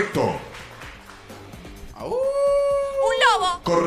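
A drawn-out wolf howl rises and holds a steady pitch for about a second and a half, clear and fairly close, preceded by brief voices and other game-show sounds.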